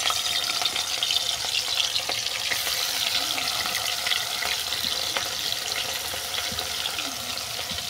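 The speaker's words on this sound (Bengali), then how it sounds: "মাছগুলোকে উল্টে পাল্টে বাদামি করে ভেজে নিচ্ছি।" Katla fish pieces frying in hot white oil in a wok, a steady loud sizzle and crackle throughout with occasional stirring and spattering, no voices.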